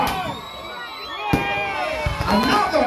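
Fireworks go off at the St. Thomas tree lighting celebration in Rudolph Elder Park, with one sharp bang and crackling bursts over the loud chatter and cheering of a crowd.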